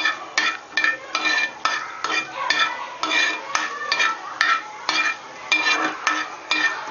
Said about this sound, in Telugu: కొంచెం ధనియాలు, వీటిని బాగా వేపుకోవాలి. ధనియాలు బాగా వేగాలి.